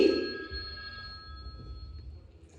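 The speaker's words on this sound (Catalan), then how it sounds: "espereu que tinc una trucada també" A telephone rings loudly with a single electronic ring burst at the start of an incoming call, then decays, leaving quiet room tone at a retirement and 25-year anniversary celebration.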